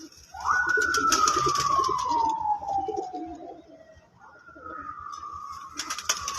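Champion pigeons in Sheikhupura coo low and steadily beneath a loud, sliding whistle-like tone that falls slowly in pitch and then returns, with a few sharp flutters mixed in.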